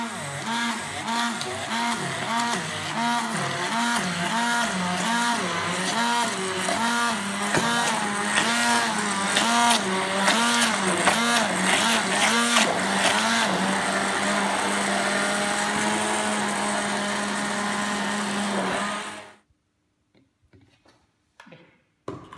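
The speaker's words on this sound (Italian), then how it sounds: "Adesso frulliamo" A blender whirs loudly and steadily for several seconds with a rhythmic churning pulse while blending strawberry and cream pudding, then cuts off abruptly into near silence.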